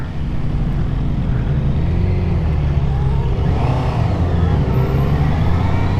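A 2025 Honda CB650R motorcycle engine pulls hard from second gear, a steady loud drone with rising harmonic tones under heavy wind rush throughout.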